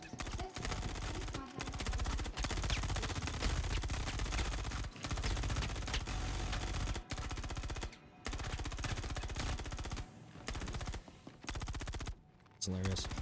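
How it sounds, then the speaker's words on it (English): Continuous dense gunfire from the space sim Star Citizen, sustained automatic bursts filling nearly the whole span with only brief gaps, loud and close, running alone without talk. "they're still shooting at each other."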